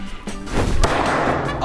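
A strongman swings a bat into a supposedly unbreakable box, and one heavy, blunt impact booms out close and loud, followed by a rumbling, noisy tail.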